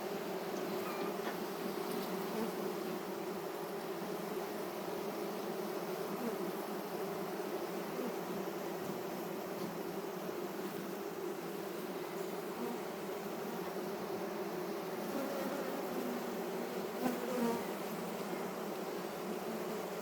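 Honey bees hum around an opened hive on harvest day, a dense, continuous drone from many insects nearby, with no talking and only small swells in the buzz throughout.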